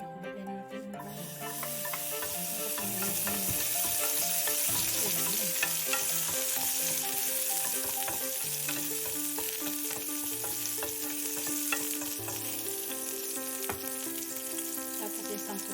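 Garlic frying in about three tablespoons of hot oil for a spicy mango shrimp dish, a steady dense sizzle and crackle that holds evenly throughout, close up, with no talking.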